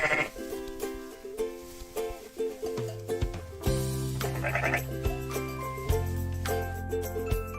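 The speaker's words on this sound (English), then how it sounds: "Sheep." Sheep bleating on a farm, several wavering calls in a row at varying pitch, close and clear, with faint tinkling jingles between them and no voices.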